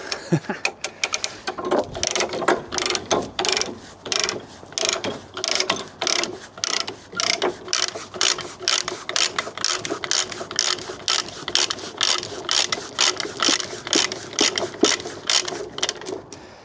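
A ratchet strap is cranked tight over a load on a low loader, giving a long run of sharp, evenly spaced mechanical clicks close by, with no talk over it.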